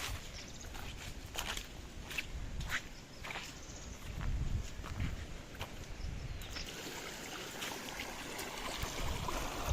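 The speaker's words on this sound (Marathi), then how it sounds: "इकडं शेतातून पाणी बाहेर सोडलेलं आहे जास्त प्रमाण पाण्याचं आहे" Water released from a flooded rice paddy during planting season pours out in a steady broadband rush, with faint irregular splashes and knocks over the flow.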